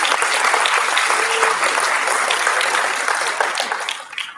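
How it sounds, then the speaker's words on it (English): Convention panel audience at a pop culture expo claps in a steady, full round of applause that tapers off toward the end. "We'll give her a hand clap."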